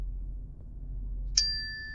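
A realme Watch 5 smartwatch sounds a single bright notification chime that rings on and sustains, alone against a faint low hum.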